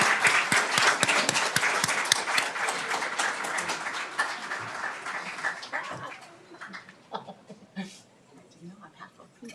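A room at a Daly City city council meeting breaks into warm applause for a performer, dense clapping with a few chuckles that tapers off into scattered claps and murmuring voices.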